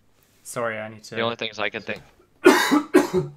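A couple of harsh, close coughs follow a stretch of a man's speech.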